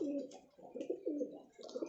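A pigeon with three feathers, a breed kept for high flying, coos in repeated low throaty phrases, close and steady, with no one talking.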